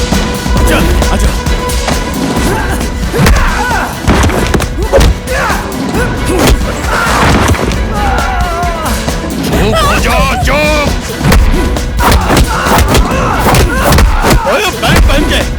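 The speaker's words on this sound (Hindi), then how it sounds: "ऊपर पंडित जी के लोग अर्जुन भैया को मार रहे हैं।" Thuds and smacks of several men beating a man in a Hindi-dubbed Nepali action film brawl, dense and loud, packed with repeated hits over shouting voices and a busy soundtrack throughout.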